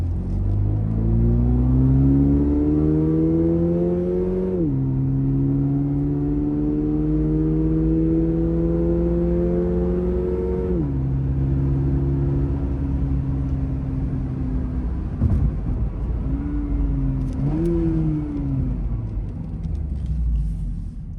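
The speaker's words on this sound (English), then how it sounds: "I'm going to depress the gas pedal about halfway." A Toyota GR86 engine accelerates at about half throttle with a steadily rising drone, dropping in pitch at each gear change, then settling and revving briefly again near the end.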